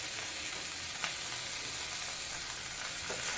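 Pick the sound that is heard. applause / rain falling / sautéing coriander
sautéing coriander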